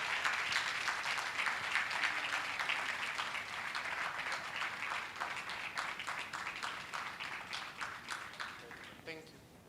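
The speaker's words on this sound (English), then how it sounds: "Let us give them a round of applause." Audience applause at a mental health awareness workshop, a steady wash of many hands clapping for nearly ten seconds with occasional voices mixed in, thinning out toward the end.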